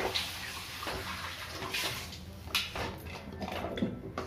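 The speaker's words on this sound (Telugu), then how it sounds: "కొన్ని వాటర్ యాడ్ చేస్తున్నాం." Water poured into a pan of capsicum curry on the stove, a steady splashing rush running throughout with a few brief clinks, close and moderately loud.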